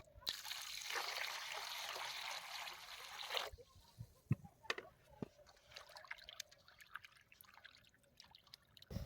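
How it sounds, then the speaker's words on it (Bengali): Cut pieces of a large fish rinsed under running water, a broad steady rush of tap flow for several seconds that cuts off, followed by scattered drips, splashes and handling noises close by. "মাছটাকে আমরা সুন্দর করে কেটে নিয়েছি এখন ফ্রেশ করে ধুয়ে নেব"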